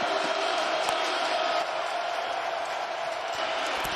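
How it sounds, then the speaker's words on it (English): At an XFL football game in St. Louis, a stadium crowd roars in a dense sustained wall of cheering and whooping on a critical third and long, loud and continuous throughout. "we hear the crowd getting louder and louder and louder, especially on a critical 3rd and long"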